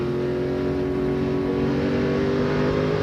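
Loud, steady engine drone from inside a 2004 NASCAR Craftsman Truck Series race truck driven by Jack Sprague, running with a right front flat tire, with a constant harmonic roar and no talking.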